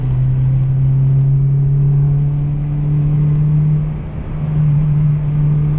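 An Acura RSX fitted with an HKS Hi-Power exhaust pulls hard down a straight road at night, its steady engine drone and exhaust rumble holding loud and close, with a brief dip before building again.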